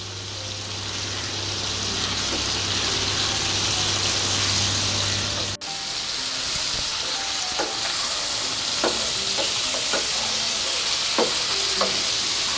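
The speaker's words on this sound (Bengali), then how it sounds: "চিংড়ি মাছটাকে খুব বেশি ভাজবো না, আমি 2 থেকে 3 মিনিট একটু ভেজে নেব" Shrimp sizzle and fry briefly in hot oil in a pan, a steady close hiss with a few sharp pops and stirring clicks in the second half.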